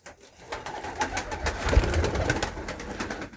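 Pigeons coo and murmur steadily inside a dovecote, several birds overlapping in soft low calls with rustling in the background.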